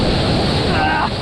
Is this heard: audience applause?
no